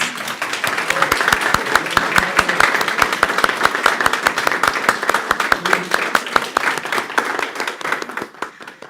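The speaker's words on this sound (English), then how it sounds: "So if we can give Marvin Polnantz a round of applause." A crowd claps steadily for several seconds at a board of education meeting, many hands blending into a dense, sustained round of applause that tapers off at the end.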